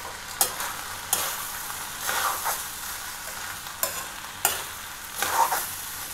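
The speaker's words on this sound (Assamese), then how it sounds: "চাউলখিনি ধুনীয়াকৈ ভাজি কৰিম।" Soaked rice frying in oil for vegetable pulao, stirred in a pan. A steady close sizzle is broken by sharp scraping strokes of the spoon at irregular intervals, with no talking.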